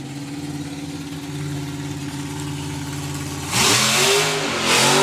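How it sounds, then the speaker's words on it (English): A drag racing car with an LS engine idles with a deep lumpy rumble, then revs hard twice in quick succession, loud and close with no talking. "Sounds just super mean now with the LS engine in it."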